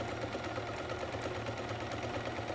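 Sewing machine running a straight seam across fabric, a steady close mechanical whir with a fast even stitching rhythm throughout.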